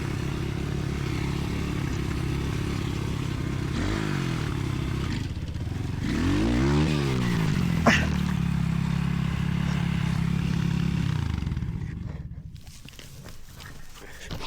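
A dirt bike engine runs close by with a steady drone, revs up and down in rising and falling sweeps as gears shift, clatters mechanically at one point, then drops off near the end.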